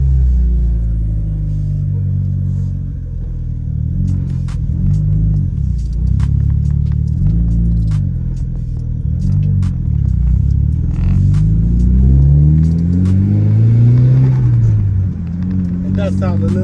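Mitsubishi Evo 9 wagon with a new Invidia dump pipe, downpipe and Hypertune manifold, its engine giving a deep steady drone and rumble with gear-change dips while driving, a voice talking over it.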